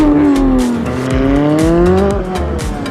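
A Porsche 991 GT3 RS race car at Brands Hatch during a GT weekend, its engine note loud and close, rising and falling as it drives past with a tyre squeal.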